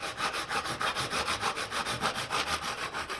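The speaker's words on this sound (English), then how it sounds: "I thought it might be easier to do the long, straight lines with a handsaw." A handsaw rasps through a cherry wood board on a long straight cut, with steady back-and-forth strokes in an even rhythm, close and alone.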